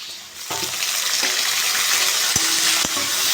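Prawns (chingri) sizzle in hot oil with fried onion, a steady bright frying hiss with a couple of short clattering knocks as they go into the pan.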